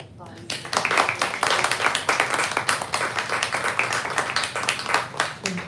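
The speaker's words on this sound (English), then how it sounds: "let's get a round of applause" An audience at a live poetry reading event gives a round of applause: dense, continuous hand clapping fills the room for several seconds, fairly close and steady.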